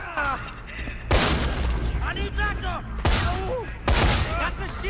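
Bursts of gunfire and booms in the video game Dead Rising 3 crack out in several loud volleys over game noise, with voices talking throughout.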